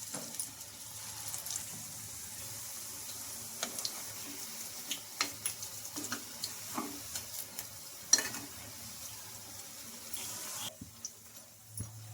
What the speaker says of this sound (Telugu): వీటిని కూడా అటు ఇటు తిప్పుకుంటూ మంచిగా ఫ్రై చేసుకున్నాను